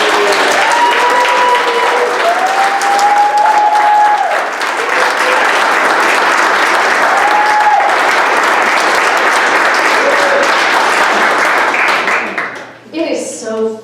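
An audience at an education conference applauds Shari in a sustained round of steady clapping, with a voice speaking over part of it before the applause fades out at the end.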